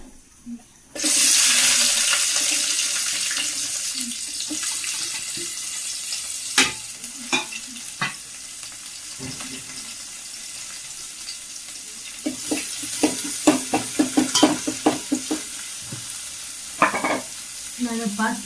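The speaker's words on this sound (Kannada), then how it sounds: "ವೆಜಿಟೇಬಲ್ಸ್ ಹಾಕ್ತಾ ಇದ್ದೀನಿ ನೀರುಳ್ಳಿ ಹಸಿಮೆಣಸಿಕಾಯಿ ಟೊಮೆಟೊ ಅಷ್ಟೇ" Chopped onion, green chili and tomato hit a hot pan with a loud, steady sizzle, then a spoon scrapes and stirs in uneven clusters of clinks while the frying hisses underneath.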